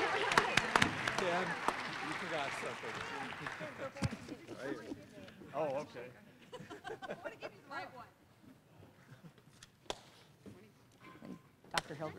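Applause breaks out for service award recipients at a college awards ceremony, starting as a burst of clapping and thinning to scattered claps while voices talk nearby.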